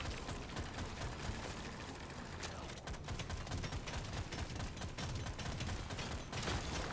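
Continuous rapid gunfire from a gun in the video game Deep Rock Galactic, a dense, steady rattling barrage holding at constant loudness throughout with a faint voice underneath.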